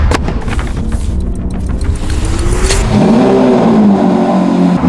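A supercar engine, not yet warm, revs hard up toward 6500 rpm, its pitch climbing loud and close before settling back at a high, steady note.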